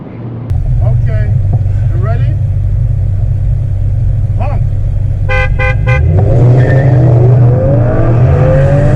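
A 2019 Audi RS5 sports car sounds its horn in a quick run of about three short honks over a steady engine rumble from inside the cabin, with some talking earlier on.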